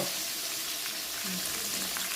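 Mutton frying in a hot tempering of spices, a steady close-up sizzle and crackle of oil that stays even and unbroken throughout, with no talk.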